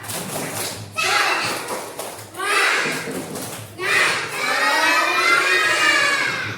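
A group of children in an Indonesian classroom chant the tepuk semangat together while clapping in a steady pattern, their voices loud and close, with claps and thumps marking the beats.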